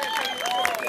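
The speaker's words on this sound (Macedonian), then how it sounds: "Аплауз за Звезди Гранда и Куречка Пепачица." Crowd applause at the Kurajčki Carnival 2016 in Macedonia, a brief burst of dense clapping and cheering from a large audience, with tonal sounds running through it.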